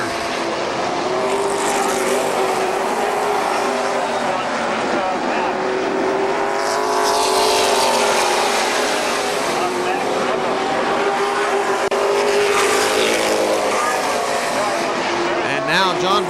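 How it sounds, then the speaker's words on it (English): Late model race cars roar around the KilKare Speedway oval in a sustained, loud engine drone that swells and fades as cars pass, with an announcer calling the action over it. "Vallow closing on the third place car of Mac Gribble Jr."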